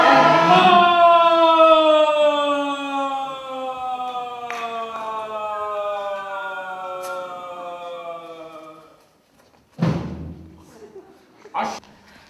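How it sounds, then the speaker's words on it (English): In a high school stage production of Urinetown: The Musical, a wailing siren with rich harmonics sweeps slowly downward for several seconds, then fades out, followed by a couple of heavy thuds. "All the sirens and the screams."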